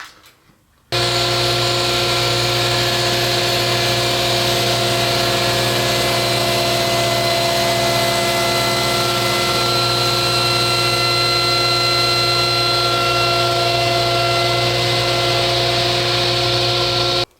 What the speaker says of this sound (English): We'll turn the saw on and we'll run the blade up to a height of 2 inches.